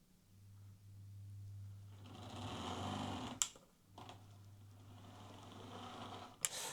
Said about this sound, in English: He says it's making a horrible noise and is struggling to move.